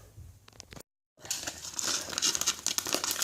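A plastic polybag holding rings is pulled open up close, giving sharp crinkling and rustling that sputters briefly, cuts off to silence, then resumes as a denser, louder run of crackles.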